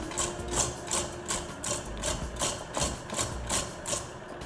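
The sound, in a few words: electric mixer mixing pineapple cake batter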